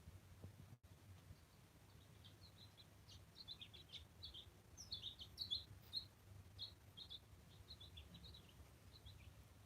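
Small birds chirp and tweet faintly outdoors in a quiet, wooded riverside spot, with short scattered calls over a low, steady background hum.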